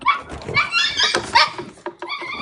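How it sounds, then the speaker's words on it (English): Small dogs bark and yip excitedly indoors at close range, a rapid run of high, sharp yelps and whimpers packed tightly together, loud and continuous. "I can hear my dogs."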